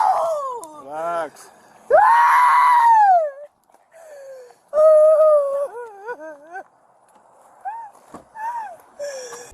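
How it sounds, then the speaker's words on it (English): A woman screams and pleads as police lead her away after a shoplifting stop, her voice rising in shrill, wavering wails and sobbing cries. The bursts are close and loud, broken by short pauses. "her screams and desperate pleas filling the air"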